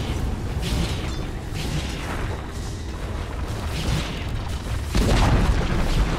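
In Dota 2, the Dire's middle tower collapses during a fight: dense, loud booming crashes and crunching impacts roll continuously, close and heavy, surging to a stronger burst near the end.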